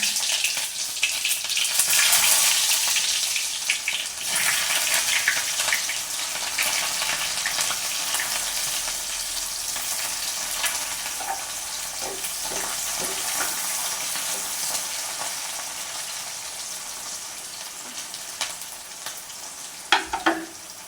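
Fennel seeds and chopped Bombay onions sizzle and crackle steadily in a hot pan, loudest early on, with occasional stirring scrapes and a sharp clink near the end; no voices.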